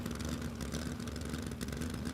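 A racing engine at Willowbank Raceway holds a loud, steady high-rev drone, sustained and close with no pause.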